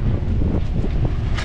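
Strong wind blasting a campsite, a loud, steady low roar of buffeting gusts against the microphone with no other sound.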